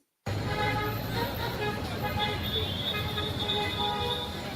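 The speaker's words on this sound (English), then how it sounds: "Honk, honk, honk, honk" Car horns honk in dense Gaza street traffic, several short toots and longer blasts overlapping above a steady roar of engines and road noise, with voices audible in the busy street.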